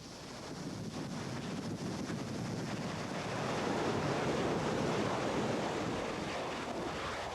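Heavy surf pounds a growing lava shoreline of fresh pahoehoe at Kilauea, Hawaii, a steady roaring wash of breaking waves with wind buffeting the microphone, loud and continuous throughout.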